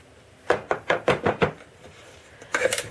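Plastic repair compound being stirred and mixed in a container, giving a run of six quick, close scraping taps followed by a pause and a second short burst of scraping strokes, with no talking.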